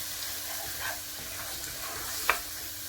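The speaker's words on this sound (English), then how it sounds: "Let's add all these spices in. Look at all those spices. Gonna mix this up" Spices, including hot red chili powder, are stirred and cooked in a pan for a chicken pathia, making a soft continuous sizzle and scraping with one brief clink, quiet and close, with no speech.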